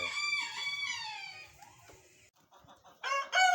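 A bantam chicken sitting on a clutch of eggs gives loud, drawn-out, falling calls and clucks, close and alone. A quieter stretch follows before two sharp final bursts.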